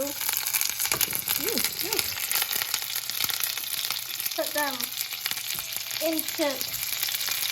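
Fiddleheads frying in very warm oil for a risotto give off a steady, dense sizzle throughout, with a few brief voice-like chirps rising over the hiss.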